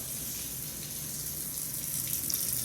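Hot water runs steadily from a household tap into a sink during a house walk-through, a constant close hiss and splash with no voices.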